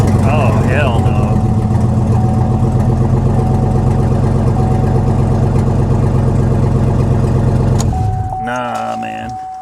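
Mini Cooper S with a six-speed manual, in rough condition at an auction lot, runs with a steady mid-pitched engine drone and rattle, with people talking over it, before the engine shuts off near the end.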